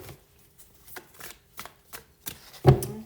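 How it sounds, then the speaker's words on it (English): Tarot cards being dealt onto a table, a series of soft slaps and flicks spaced roughly half a second apart, ending in a louder thump, close and quiet with no talking. "If not, I will go ahead and deal the cards."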